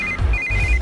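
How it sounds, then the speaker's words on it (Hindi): A phone rings with a bright electronic ringtone, two short tonal bursts close by, with low thumping noise underneath. "इस वक्त दीदी का फोन।"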